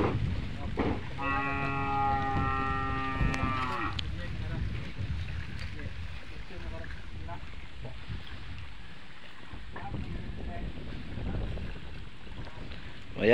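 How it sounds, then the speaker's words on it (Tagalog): Strong wind roars steadily across the microphone on a fishing boat in choppy seas, with a low rumble underneath and a brief tonal, horn-like sound near the start. "Malakas-lakas konti yung hangin."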